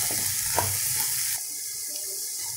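Steady sizzling and crackling of spices and chickpeas frying in a pan for a no-onion, no-garlic sabzi, loud and close, with a scrape of stirring partway through.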